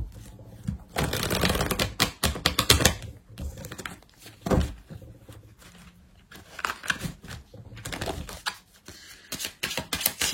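Tarot cards being shuffled by hand before a card draw, heard as close, dry riffling and flicking bursts that come in irregular clusters with short pauses between them, with no talking.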